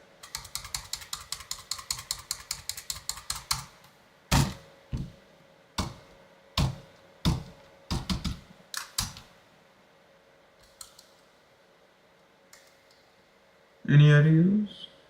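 Rapid burst of computer keyboard typing, a dense run of sharp key clicks, then slower scattered heavier key presses and thunks, close and fairly loud, ending with a brief voice.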